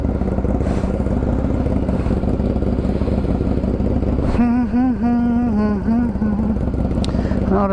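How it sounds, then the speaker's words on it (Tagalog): A motorcycle engine warms up with a steady close idle rumble. Partway through, a voice begins speaking over it. "Painit muna tayo ng bike."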